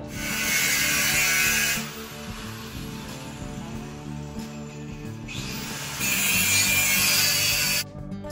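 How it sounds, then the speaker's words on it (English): Power tool with a flat disc trimming and rounding the edges of roof rack pieces for a Suburban build, two loud bursts of bright grinding separated by a quieter stretch of the tool running. "I'll just trim them up with the flat disc, round the edges off"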